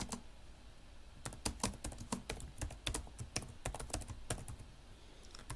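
Code is typed on a computer keyboard in rapid, uneven bursts of crisp key clicks, close and clear, with no talking over it.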